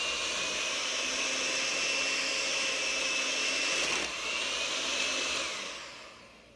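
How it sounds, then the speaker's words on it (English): An electric hand mixer whips a large bowl of boiled potatoes with butter for whipped mashed potatoes, giving a steady, loud motor whine that holds for about five seconds, shifts pitch briefly, then winds down at the end. "We're going to use our mixer, and we're going to go ahead and simply whisk these down."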